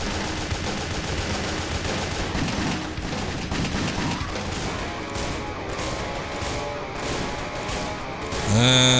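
Rapid bursts of gunfire in the video game Wet, dense repeated shotgun blasts and shots over loud game sound, ending in a sustained tonal effect.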